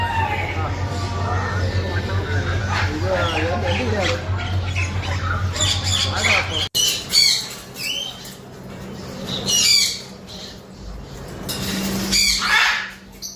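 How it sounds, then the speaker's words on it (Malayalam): Parrots and other birds squawk repeatedly at a bird market in Kuwait, with harsh calls and wing flutters rising over a steady background hum and crowd chatter, loud and close throughout. "വിലയേറിയ പക്ഷികൾ, തത്തകൾ, കിളികൾ ഒക്കെ ധാരാളമുള്ളൊരു മാർക്കറ്റ്"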